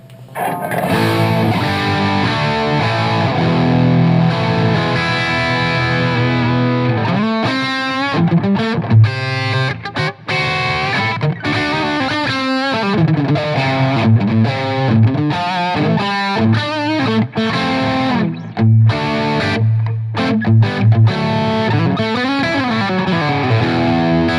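An electric guitar through a Statesman Dual EL34 tube amp, gain at about 2 o'clock, plays thick heavily overdriven chords and riffs, loud and sustained throughout with no pauses.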